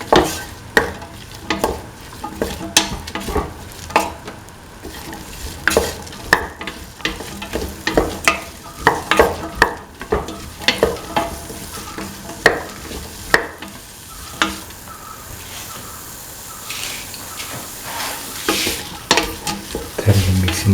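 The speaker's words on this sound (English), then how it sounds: "Thoroughly mix in the tomato pieces." A spoon stirs tomato pieces into a sizzling chickpea, snake gourd and coconut milk stew, scraping in repeated sharp strokes over constant frying hiss, close up, with no talking.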